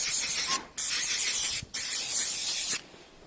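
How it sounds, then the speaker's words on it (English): Three loud hissing bursts of aerosol spray, close by, the first short, then two longer sprays separated by brief gaps, during work on a 50cc two-stroke Piaggio Vespa. "I wonder if I spray it first"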